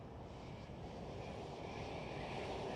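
An Airbus A380 comes in to land on Schiphol's center runway near Amsterdam, a steady distant roar of jet engines with broad wind-like noise, faint and unbroken throughout.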